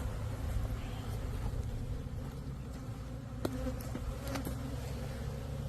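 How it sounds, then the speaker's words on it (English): A swarm of bees being relocated fills the air with a dense, continuous buzz, close and steady throughout, with a few sharper insect passes near the mic. "This is where a lot of the bees are."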